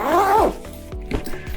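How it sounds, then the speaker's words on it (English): A zipper on a massage table carrying bag is drawn closed in a quick close-up rasp, followed by a few short tugs and rustles of the fabric. "Keep using that zipper, and voila."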